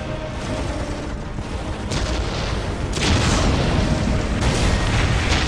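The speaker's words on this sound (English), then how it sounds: "We will silence that Orc artillery." Ork artillery in the Warhammer 40,000 game Dawn of War, a dense rumbling barrage of heavy booms and blasts that swells and keeps rolling throughout, loud and close, with no speech over it.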